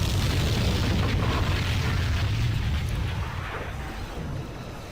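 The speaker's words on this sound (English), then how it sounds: "that explosion was amazing" Loud, deep explosion from the Star Trek Armada III space strategy game with a Borg mod, a sustained rumbling boom that fills the whole stretch and slowly fades toward the end.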